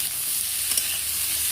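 Mixed vegetables, including cabbage and capsicum, sizzle steadily in a hot pan while being stirred, a continuous close frying hiss with a few soft scraping strokes.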